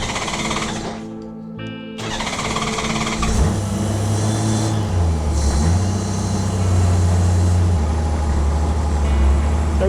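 Out on a ride, a Honda GoldWing motorcycle engine drones loud and steady after a brief quieter gap, a low rumbling hum with shifting pitch as the throttle changes, and wind noise over it.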